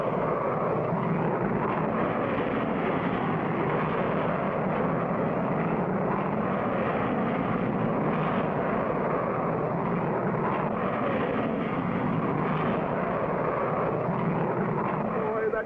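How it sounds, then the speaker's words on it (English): A cartoon airplane takes off from a 1959 animated adventure, a loud, steady engine roar and rushing drone holding at close range throughout, with voices talking under it. "Boy, that was some takeoff."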